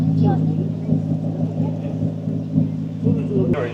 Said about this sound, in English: That boat is moving.